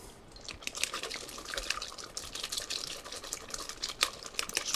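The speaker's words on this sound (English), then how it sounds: "we pass our sauce through a conical strainer, not a chinois" Tomato sauce for pomodoro being pushed and worked through a conical strainer: a continuous wet, squelching crackle with small irregular drips and clicks, close and steady throughout.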